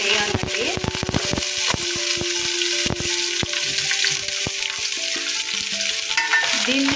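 Green chillies, curry leaves and a medium onion fry in hot oil in a pan for a Telugu fish curry, with a loud steady sizzle and sharp crackles throughout as the mix is stirred.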